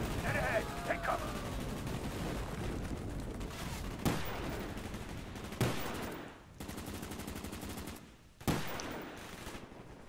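Call of Duty: Black Ops gunfire crackles through a tense firefight, sharp shots and bursts scattered among loud impacts and explosions, with people talking over the battle noise.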